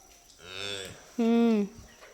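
Two short, nasal bleating moo calls from calves on a dairy farm, the second louder and higher, heard close with little else around.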